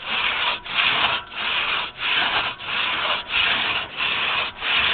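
A two-person felling crosscut saw works through a log outdoors, each rasping stroke clearly separated in a steady back-and-forth rhythm, close and loud with no voices.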